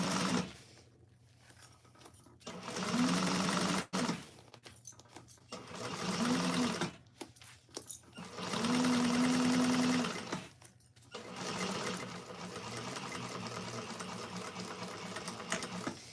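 A sewing machine stitches a bag lining seam across the bottom with backstitching, running in several short bursts of steady whirring separated by pauses, close and fairly quiet.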